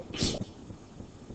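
One short sneeze, loud and close, followed by a little breathy trailing noise in a quiet room.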